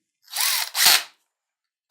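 A Makita HP331 cordless hammer driver drill whirs through two quick revs under the trigger, a close, bright motor whine spinning up and down, with silence after.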